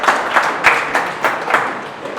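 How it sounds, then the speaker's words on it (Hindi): Audience at a Hindi poetry gathering clapping, a loud burst of applause with several sharp accented claps standing out in an uneven rhythm across the moment. "जोरदार ताली हो"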